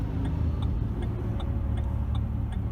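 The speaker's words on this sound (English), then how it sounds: "I like to hear just a little bit of powerful exhaust note to go with it" A 2008 Ford Expedition with a custom exhaust system idles with a steady low rumble, a faint regular ticking running through it, heard close and continuous without talk.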